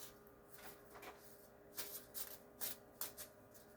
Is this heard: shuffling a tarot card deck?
yes